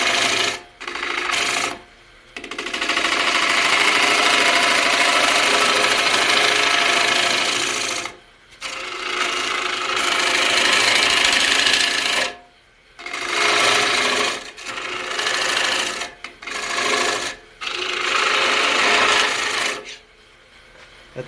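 A 3/8 inch bowl gouge cuts a wooden bowl spinning on a lathe, giving a loud, rough, continuous scraping roar in long passes broken by short pauses as the tool lifts off.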